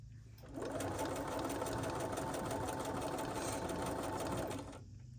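A sewing machine stitches a pillow finish in one steady run of close, even, rapid stitching, starting and stopping cleanly.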